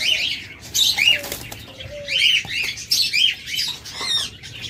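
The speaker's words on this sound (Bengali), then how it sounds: "দেখুন অসংখ্য সুইটাল ঘুঘু রয়েছে, অসংখ্য পরিমাণ।" Many doves crowded together in a bird shop flap their wings and give harsh squawks and chirps in repeated overlapping bursts, close and fairly loud.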